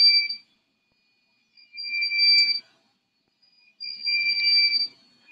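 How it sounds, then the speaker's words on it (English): An electronic buzzer sounds in three shrill, high-pitched bursts separated by silence, loud and close. "I'm just going to plug out the buzzer. It's going to make a lot of noise."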